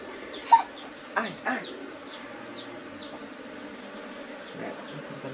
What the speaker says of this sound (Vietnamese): Ong cái lấy mật này.